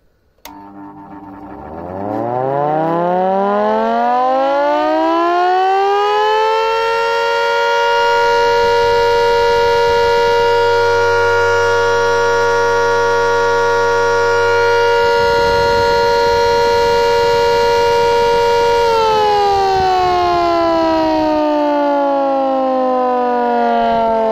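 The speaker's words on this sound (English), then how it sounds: "so let's fire it up" A loud homemade rotor-and-stator air raid siren spins up with a rising wail, holds a steady howling tone, then climbs slightly higher and sustains until the end.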